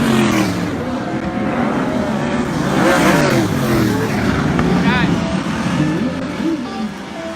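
Race cars roar around a track, their engines revving and passing in loud, overlapping waves beneath nearly constant nearby chatter.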